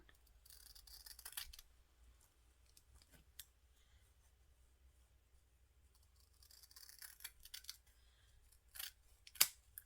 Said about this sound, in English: And then I'm going to cut it in half again.